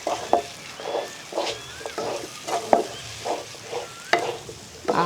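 Chicken varuval stir-frying as coriander and curry leaves are tossed in, with a steady sizzle broken by rhythmic scraping and stirring strokes of a spoon against the pan, close and fairly loud.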